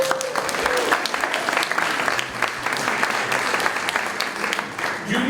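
Sustained applause from a seated audience at an evening panel event, steady clapping filling the room throughout, with faint murmurs mixed in.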